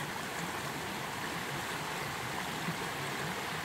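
Creek water flows steadily at a creek crossing on a mountain hiking trail, a constant close broadband rush and babble with no voices.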